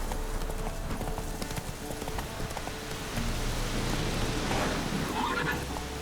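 Hooves of the horse Roach galloping in The Witcher 3: Wild Hunt on PS4, a rapid continuous clip-clop over a dense rain-like wash of game ambience, with a low rumble joining midway.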